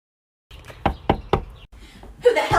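Three sharp knocks on a door land in an even rhythm after a brief silence, followed by a fainter tap and then a muffled voice.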